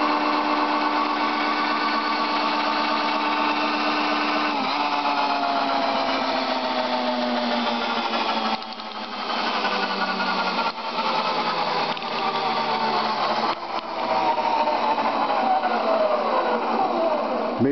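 An electric drill runs steadily and loudly throughout, its motor whine shifting pitch slightly as the load changes, with brief dips in level partway through.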